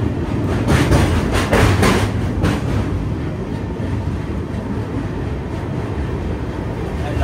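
Train running near the Vijayawada barrage, a loud continuous rumble and clatter of wagons rolling close by.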